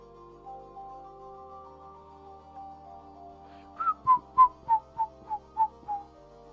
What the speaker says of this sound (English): I bet whistling on that mic is horrible.